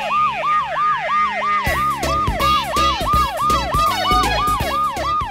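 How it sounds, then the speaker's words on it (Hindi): A loud alarm siren blares inside a house, wailing in a fast, repeating rise-and-fall pattern, with a heavy rhythmic beat joining partway through. "अरे कान खड़ा है, अलार्म मुन्ना, कैसे भी करके बंद कर इसे।"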